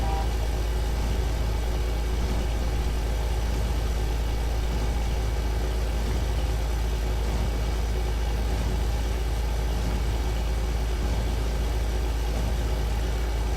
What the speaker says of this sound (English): This tractor seems to really handle this baler really well